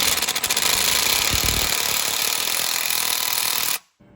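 An impact wrench snugs down a rocker shaft on a 1967 Dodge Coronet 500 engine, a loud, close, continuous rattling hammer lasting nearly four seconds before stopping abruptly.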